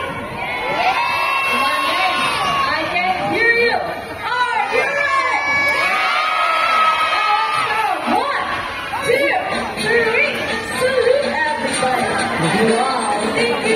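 A large crowd with many children cheers, whoops and shouts loudly and continuously at a sea lion show at Manila Ocean Park, excited voices rising and falling throughout.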